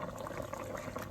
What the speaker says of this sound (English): So it's still boiling.